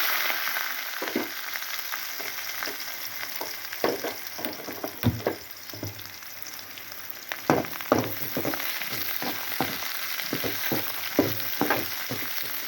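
Onion and fresh curry leaves sauté in a pan for dalcha, a steady sizzle under irregular scraping stirs and clicks of a spoon against the pan, close and continuous with no talk.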